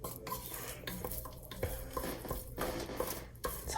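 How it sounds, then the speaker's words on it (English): A roux being stirred in a pot for lima beans, with onion about to go in: steady scraping and swishing of a utensil against the pot, continuous and close, with faint light sizzling underneath. "Lots and lots of stirring."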